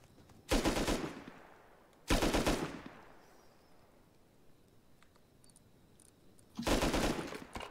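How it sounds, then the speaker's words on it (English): Bursts of automatic gunfire in the survival video game Rust, three rapid rattling volleys spaced a few seconds apart with quiet gaps between, loud and with no one talking over them. "I'm clearly being shot from someone I can't see"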